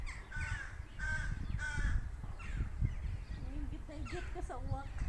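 Several crows caw repeatedly in harsh, rasping calls, fairly close, with a person talking at times underneath.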